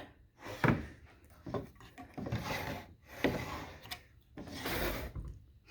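Wooden drawers in an older mission-style cabinet being slid out and pushed back at an estate sale, repeated rubbing scrapes and soft knocks, quiet and close with no talk.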